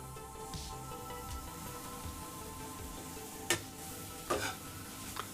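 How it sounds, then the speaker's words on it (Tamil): A coconut paste with garlic and green chili sizzles steadily in a pan while a spoon stirs and scrapes, with a few sharp clicks of metal against the pan. "தேங்காய் போட்டதுக்கப்புறம் 1 நிமிஷம் வரைக்கும் நல்லா வதக்கி எடுத்துக்கலாம்."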